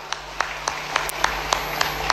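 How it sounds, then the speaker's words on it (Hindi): A crowd at a Janmashtami event in Chanderi, Madhya Pradesh, claps in a steady, rhythmic beat of distinct claps over a constant background hum. "जोरदार तालियां बजाओ सभी के लिए।"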